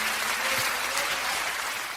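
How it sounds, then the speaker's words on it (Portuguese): A church congregation applauds at a lively evangelical service, a steady wash of clapping held at an even level for the full two seconds with no talking over it. "os que podem dar a Jesus uma linda salva de palmas, porque Ele é bom"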